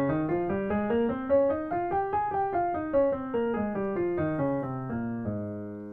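A musical scale played at a steady pace, each note stepping upward then back down in smooth sequence, clear and alone with no talking.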